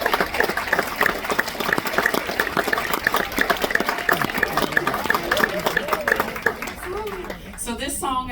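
Audience applause at a live concert: a crowd claps steadily and densely, with voices and cheers mixed in, before it fades into a brief quieter moment with someone speaking.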